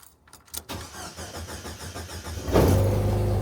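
A car engine cranks and catches after a jump start from a GOOLOO A5 4000A jump starter, a short whirring crank followed by the motor firing and settling into a loud, close idle.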